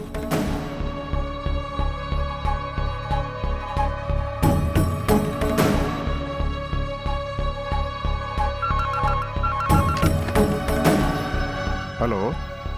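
A telephone rings in a tense domestic scene as a call is placed to the family lawyer, its repeated bursts of ringing sitting over a steady background music bed.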